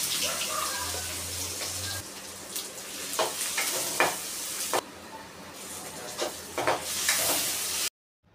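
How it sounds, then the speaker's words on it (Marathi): Mustard seeds and cumin sizzle in a spoonful of hot oil in a kadai, giving a close, loud hiss with scattered sharp crackles and pops before cutting off abruptly at the end. "तेलामध्ये राई जिरे टाकले. राई जिरे तडतडले"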